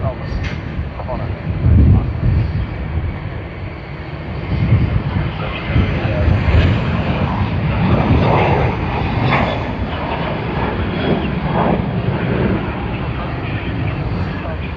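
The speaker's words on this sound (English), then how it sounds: "VHVYA on the Boeing 737-800." Boeing 737-800 jet at Sydney Airport, a steady broadband engine roar at moderate distance holding for the whole stretch, with a talking voice layered over it.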